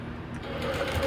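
A longarm quilting machine stitches a paper-pieced medallion quilt with rulers, giving a brief, steady mechanical whir with a fast rhythmic chatter at close range.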